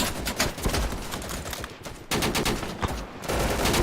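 Machine gun fire in the video game Easy Red II, rapid dense bursts of automatic shots close by, broken by brief pauses, with no talking.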